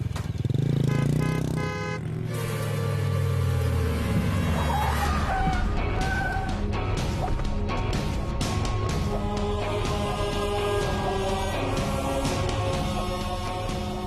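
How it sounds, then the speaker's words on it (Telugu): A motorcycle engine rumbles low and steady for the first couple of seconds as the bike is parked, then gives way to loud background music that runs throughout. "నేను బైక్ పార్క్ చేసి వస్తాను"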